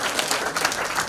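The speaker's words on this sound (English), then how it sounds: "Round of applause for them for putting this on" Audience at a comedy show at the Comedy Lounge breaks into a brief burst of steady applause, a dense crowd clap filling the room with no voices on top.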